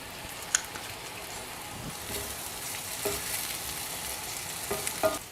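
Shallots and garlic cloves fry in a pan with a continuous soft sizzle, interrupted by occasional light scrapes as they are stirred, close but fairly quiet, with no talk.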